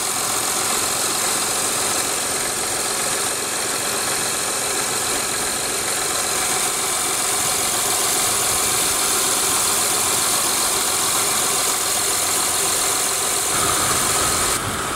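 A 2006 Honda Accord's 3.0 L V6 idles steadily after start-up, giving a continuous, even engine drone with a faint mechanical ticking, loud and alone with no voices.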